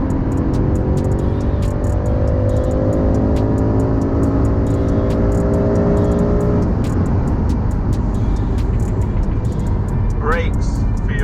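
A 2020 BMW M5 Competition in manual mode pulls hard along country lanes, its engine note climbing steadily for several seconds before easing into a loud, steady cabin rumble.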